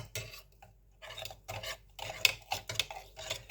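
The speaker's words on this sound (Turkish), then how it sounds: "Kaşığımızı alalım şimdi. Yeteri miktarda da suyumu ilave ettikten sonra bir kez de bu şekilde karıştıracağım." A spoon stirs coffee and water in a cup, giving quiet, repeated clinks and scrapes in uneven bursts with short pauses between strokes.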